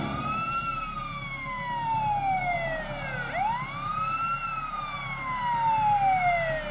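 Ambulance siren wailing in long rising and falling sweeps, loud and steady with no one speaking, over a rumbling low background of traffic or engine noise.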